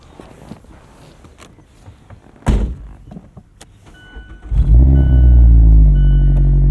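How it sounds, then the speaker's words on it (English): A family car's engine starts with a loud rumble around the midpoint and then holds a strong, steady idle with a rising rev, preceded by quieter cabin movement and a door or seat clunk. "It goes vroom vroom."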